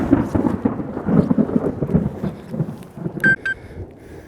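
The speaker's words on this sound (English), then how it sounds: "So you can hear the thunder" Low, rolling rumbles of thunder roll across the whole stretch by the Upper Owens River, with a brief tonal beep near the end over faint outdoor ambience.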